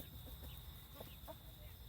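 A few laying hens cluck softly and intermittently in a farmyard, faint and somewhat distant over steady background noise, with a constant high-pitched hum throughout.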